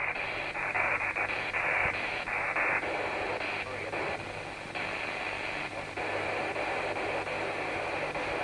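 Continuous hissing static on a ham radio receiver (Yaesu 817) reading S9 of noise, with faint warbling tones and intermittent broadband crackle, steady and unbroken throughout.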